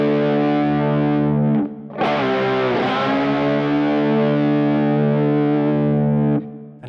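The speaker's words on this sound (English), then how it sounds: "bends the tremolo arm down as he plays it, and then gradually brings it back up to pitch" Electric guitar played with heavy distortion and effects, a sustained note dived down with the tremolo arm then eased gradually back up to pitch, loud and close with no talking.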